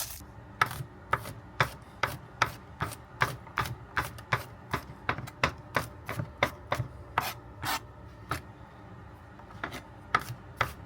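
Knife chopping garlic on a cutting board, a steady run of sharp, close knocks at an even, brisk rhythm, with no voices.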